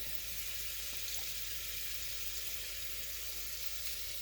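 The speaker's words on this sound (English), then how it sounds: "now I'm going to put my butter in and let my butter start to melt" Butter melting in a hot pan gives a steady, even sizzle that carries on without a break, a faint continuous hiss with no talking over it.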